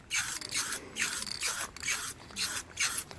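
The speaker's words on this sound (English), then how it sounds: "I'm going to start off with really light spray about 10 inches back, just to lay like a primer or a base coat" Light coats of spray paint hiss from a can held about ten inches from a Roland mesh drum head, in six short bursts with brief pauses between them, close and alone.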